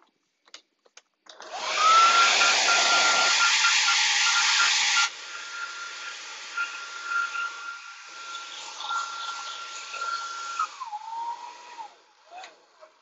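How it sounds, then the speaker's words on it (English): A hair dryer starts up and blows hot air loudly onto a photographic plate, then drops to a lower, steady whir before shutting off, a faint whistle-like tone riding over the airflow. "I've just given the plate some hot air with a hairdryer"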